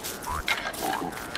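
Grunting from the Pig King in the video game Don't Starve, a few short low snorts and oinks mixed with soft game ambience.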